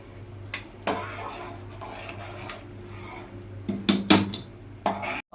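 Sakkarai pongal finished with ghee, stirred in a pot, with a spoon scraping and knocking against the metal in scattered strokes that grow busier toward the end, heard close over a steady low background hum.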